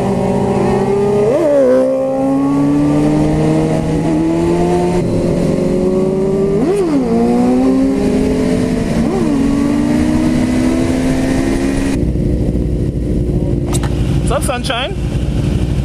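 Several motorcycles, including a BMW, rev and accelerate loudly on a small group ride, engine pitch rising and falling with gear changes, heard up close with a brief spoken greeting.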